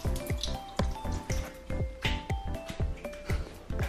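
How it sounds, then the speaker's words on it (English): Water sprinkled by hand onto a mirror, giving a rapid run of small wet taps and drips in an uneven rhythm, close and fairly clear, with no talking. "you're gonna need to sprinkle some water in the mirror like this"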